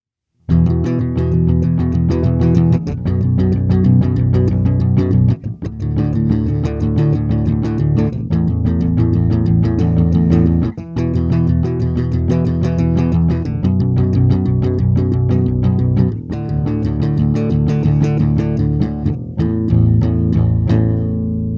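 A bass guitar plays a driving, punky riff with fast repeated notes, loud and continuous, with brief breaks between phrases.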